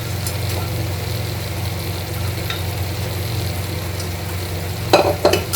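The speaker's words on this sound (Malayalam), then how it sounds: "ഇതും നല്ലപോലെ മിക്സാക്കി കൊടുക്കാം." Chili powder being stirred into a fish masala curry in a pan, with a steady sizzling hiss and soft, continuous spoon movement, ending in a few louder scraping strokes.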